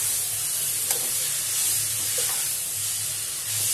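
Chowmein ingredients being mashed and mixed in a hot pan, a steady broadband sizzle with faint scraping strokes throughout, fairly close and without talk.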